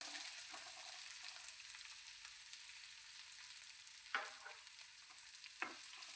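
Onion frying in a pan with garlic and green chillies, a faint steady hiss with a few brief stirring scrapes.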